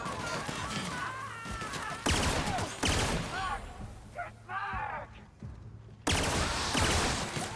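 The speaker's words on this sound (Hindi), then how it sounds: "बहुत डैमेजिंग गन है भाई साहब" Bursts of heavy gunfire from a powerful weapon in the video game The Outer Worlds, loud dense volleys separated by short gaps, with voices talking through the shooting.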